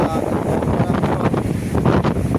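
Stormy sea at the shore, with rough waves surging and crashing under loud, gusting wind that buffets the microphone, close and continuous.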